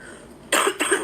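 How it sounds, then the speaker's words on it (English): Two quick, harsh coughs close to the microphone, one right after the other. "I don't want to start coughing again."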